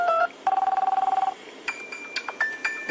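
Ringtone and alert previews on an Oppo Finder phone: short bright electronic beeps and tones, a rapid pulsing run of identical beeps followed by scattered chimes and clinks, near and moderately loud with no talk.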